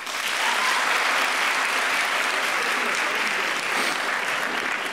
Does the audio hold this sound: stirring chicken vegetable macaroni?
no